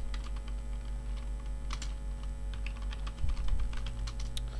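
Keys on a computer keyboard clatter in a steady stream of close, light clicks, with a brief heavier burst near the end, all over a low room hum and with no talking.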